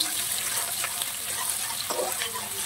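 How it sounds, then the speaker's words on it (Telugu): Onions and green chillies sizzling in oil with a bay leaf in a kadai, a steady broadband hiss with soft stirring clatter, close and continuous, no talking. "కళాయిలో మళ్ళీ కొంచెం నూనె పోసుకొని ఇలా ఒక బిరంగి ఆకు వేసుకొని ఆల్రెడీ కట్ చేసుకొని ఉన్న మిర్చి మరియు ఆనియన్స్ వేసుకొని బాగా వేయించుకోండి"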